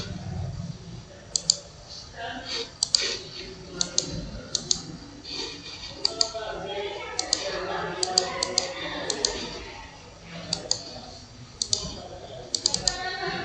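A computer mouse clicks repeatedly while a file is being saved in MS software, giving scattered crisp single and double clicks beneath steady talking by a woman.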